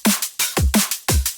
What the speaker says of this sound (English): So all the drums together sound something like this